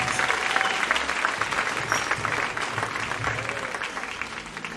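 An audience at a worship concert claps in sustained applause, a dense, steady wash of many hands that gradually eases off toward the end, heard from within the crowd.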